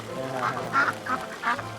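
Large flock of roughly three thousand ducks crossing water on rural Vietnamese rice fields, a dense continuous chorus of nasal quacking with several louder calls rising above the constant din, close and loud.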